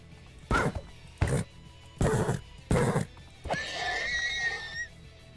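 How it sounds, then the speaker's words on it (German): Horses in Minecraft: several short, snorting huffs in a loose rhythm, followed by one longer whinny that rises and falls, close and clear over a quiet background with no talk. "Oh, ein paar Pferde, das ist gut."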